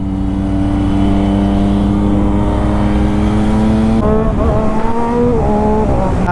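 A Triumph Daytona 675 sport motorcycle at full throttle on a highway, a loud, steady, high-pitched engine howl that climbs through the revs and drops with a gear change before climbing again.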